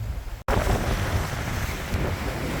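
Strong wind roars against the microphone aboard a sailboat at sea, with waves rushing and surging under it, loud and unbroken apart from a brief dropout.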